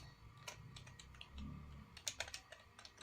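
Typing on a computer keyboard while entering text in MS Word: scattered light clicks, then a quick run of sharper, louder keystrokes near the end, close and quiet with no speech.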